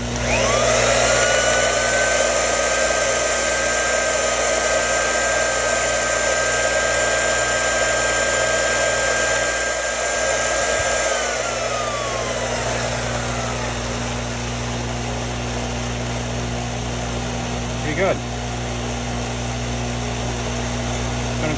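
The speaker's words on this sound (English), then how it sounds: "I just wanted to check the drill. It probably hasn't run like that in a long time." A heavy 1934 U.S. Tool Company Commander electric drill motor runs with a steady mechanical hum and whine for a long stretch, slowing slightly partway through, close and continuous.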